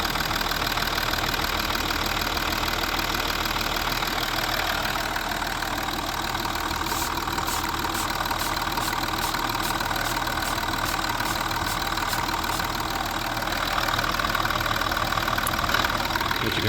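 A 2011 Ford Territory 2.7L V6 turbo diesel idles steadily and loudly at close range, its knocking diesel clatter holding even throughout with no one speaking.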